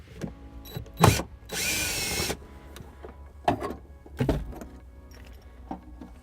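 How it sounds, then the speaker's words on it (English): A power drill whirs in one short burst removing a screw from a 2013 Subaru Forester, surrounded by clicks, clunks and handling noises close by. "And my drill, I remove this one here."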